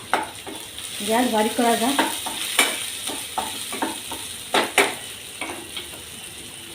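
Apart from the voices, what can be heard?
green peas added to pan and sautéed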